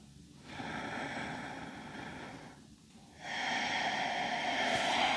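A deep breath goes in and out during a yoga flow, a long, close, airy rush with a short pause between breaths and the last exhale growing louder.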